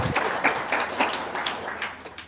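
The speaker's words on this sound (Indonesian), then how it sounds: "Oke, sekali lagi dong tepuk tangan ya." A studio audience applauds on a talk show, a moderate burst of clapping with some distinct louder claps, steady and close.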